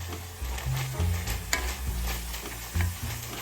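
Seasoned ground beef and vegetables, salted and peppered, stirred in a hot pan for a meat pasta sauce, giving close scraping strokes of the utensil over a low, continuous sizzle, with no talking.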